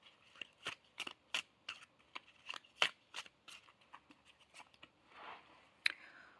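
Cards drawn and shuffled from a tarot messages deck: a close, quick run of crisp flicks and papery snaps in an uneven rhythm, with no one talking.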